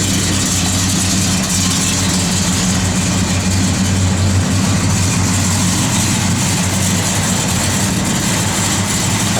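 A 1972 Oldsmobile 442 V8 idles steadily and loudly up close, with a constant low rumble and no pauses.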